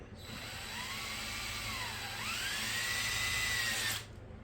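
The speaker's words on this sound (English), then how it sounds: "gotta drill out these rivets" An electric drill bores out rivets on a car muffler, a high whining spin lasting about four seconds with the pitch dipping briefly under load midway before cutting off, close and alone.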